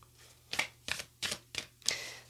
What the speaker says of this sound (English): I'm just going to shuffle some cards to see which deck or like which groups will come out.